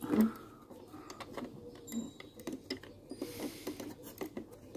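Small hand vise being tightened to clamp a coin for cleaning, giving quiet, irregular mechanical clicks and creaks of the screw and jaws, close and faint, with soft handling noises between them.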